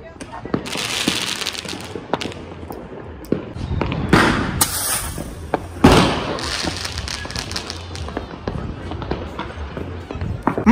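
Diwali fireworks going off at a family celebration, crackling bursts and pops over a noisy background, with people talking and shouting throughout.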